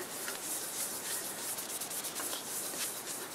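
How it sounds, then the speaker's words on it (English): A soft cloth rubs finish into black locust wood, giving a steady, close, hissing swish with faint rhythmic strokes and no voices. "I'm just rubbing it in with a soft cloth"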